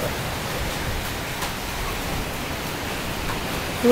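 Heavy summer storm rain in Chiang Rai, a dense, steady hiss of downpour filling the air without letup.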